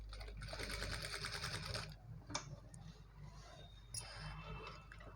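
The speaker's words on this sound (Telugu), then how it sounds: "ఈ నెక్ డిజైన్ అయితే నేను ఇలా మెల్లిగా డిజైన్ అయితే స్టిచ్ చేస్తున్నాను." A sewing machine stitches a net-fabric blouse neck design at a slow pace, running with a steady rapid whir that pauses briefly and then starts again, close and clear.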